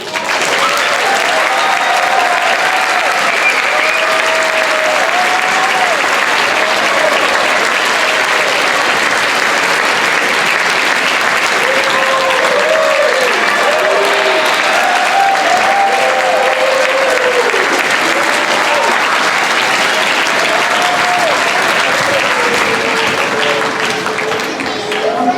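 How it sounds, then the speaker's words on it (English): An audience applauds after a school play at a fun-fest, with dense, sustained clapping throughout and cheering voices rising above it. "let's give them a round of applause"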